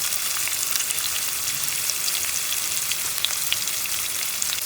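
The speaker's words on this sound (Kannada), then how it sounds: "ಫ್ರೈ ಆಗುವಾಗ ಹಚ್ಚಿದ 1 ಈರುಳ್ಳಿ ಹಾಕ್ಕೊಂಡು ಸ್ವಲ್ಪ ಫ್ರೈ ಮಾಡ್ಕೊಳ್ಳೋಣ" Chopped onion and green chillies fry in oil in a pan, giving a constant close hiss of sizzling with faint crackles, steady throughout and with no talk.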